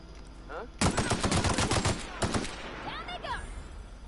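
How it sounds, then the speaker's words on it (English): Bursts of rapid automatic gunfire in The Outer Worlds video game, a dense volley of sharp cracks followed by a few scattered shots, loud and close. "Gunfire just outside."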